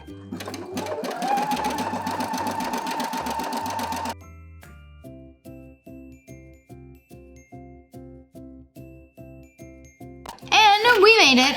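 A sewing machine stitches fabric, first in a fast steady whir, then slowing to a run of evenly spaced mechanical clunks, close and loud, ending in a brief burst of higher sound.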